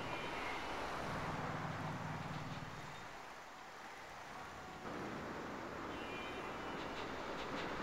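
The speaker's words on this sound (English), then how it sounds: "So this freight train comes through here." A freight train in the city-building game A-Train 8 rolls past as a steady, loud rumble and rushing noise that dips briefly in the middle before swelling again, with no voices.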